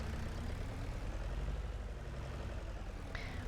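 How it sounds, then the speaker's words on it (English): Tractor engine idling in the video game Farming Simulator 25: a quiet, steady low rumble with an even throb throughout, alone and without talk, with a short faint electronic tone near the end. "I do like the sound of this tractor though."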